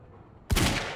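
Pistol fire in the video game Quantum Break, a sudden loud shot or quick burst that breaks a near-silent moment, its echo holding through to the end.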